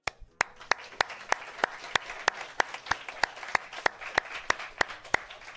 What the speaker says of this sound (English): This applause goes to all of you.